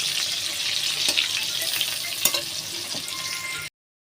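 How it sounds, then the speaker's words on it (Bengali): Pointed gourd slices frying in oil in a home kitchen, a steady close sizzle with a few sharp clicks partway through, then cutting off abruptly. "এখানে আমার হচ্ছে পটল ভাজা"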